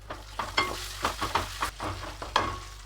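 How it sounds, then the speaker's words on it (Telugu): Ginger garlic paste and onions fry in a pan for tomato rice, a close sizzle under frequent rhythmic scrapes and taps of a spoon stirring, with no voices. "అల్లం పచ్చివాసన పోయే వరకు కలుపుదాం."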